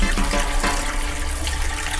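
Running water rinsing 18k gold during gold recovery pours in a loud, steady splashing stream, close up and uninterrupted, with no speech over it.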